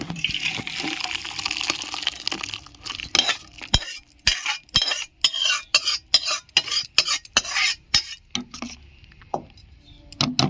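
Cooked mung dal made with rohu fish head being poured and scraped out of a cooking pot with a metal spoon, a run of sharp clinks and wet slops, close and fairly loud, with no talking.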